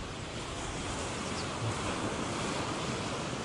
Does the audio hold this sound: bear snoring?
no